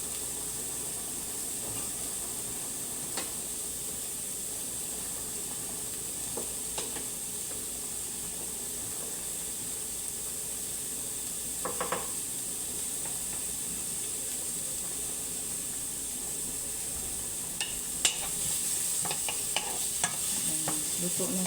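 Sliced white onions sautéing in a pan for chicken Alfredo pasta, a steady quiet sizzle and hiss with occasional light stirring scrapes, a few louder clinks near the end, no talking.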